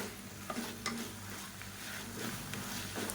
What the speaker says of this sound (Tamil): புதினா சேர்த்துட்டு ரொம்ப வதக்க வேணாம், லைட்டாக ஒரு பரட்டி விட்டிங்கனாலே போதும்